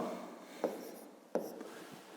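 Pen strokes on paper as a pupil writes numbers for a fifth-grade maths exercise, with a few short scratchy marks and two sharper taps, close and quiet, with no talking.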